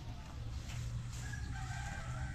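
A chicken in a rural yard clucks faintly in the distance over a steady low rumble.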